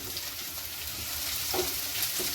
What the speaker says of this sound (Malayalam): നന്നായിട്ടൊന്ന് വഴഞ്ഞു വന്ന സമയത്ത് നമുക്ക് കുറച്ച് കറിവേപ്പില ചേർത്ത് കൊടുത്ത് ഒന്നും കൂടെ ഒന്ന്